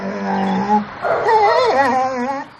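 Working film dogs in hot mountain terrain whimper and whine in rising, wavering high-pitched cries, close and fairly loud, with a brief gruff sound early on.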